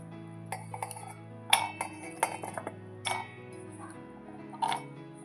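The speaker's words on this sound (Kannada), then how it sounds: "ಈಗ ನೋಡಿರಿ, ನಾ ಈ ಎಲ್ಲ ಸಾಮಾನನ್ನು ಈ ಜಾರಿಗೆ ಹಾಕ್ಕೊತೀನಿ." Chopped ridge gourd and other cut ingredients drop into a steel mixer jar in a home kitchen, giving a string of sharp clinks and clatters of metal and pieces against the jar, close and moderately loud, with a few faint background noises.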